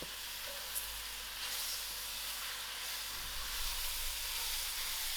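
Pumpkin pieces fry in hot oil in a pan, giving a steady, even sizzle and hiss that holds at a constant level throughout.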